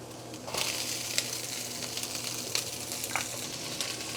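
Chopped crab sticks stir-fry in a pan with a steady, close sizzle. Faint scraping and clinking from stirring recur every second or so.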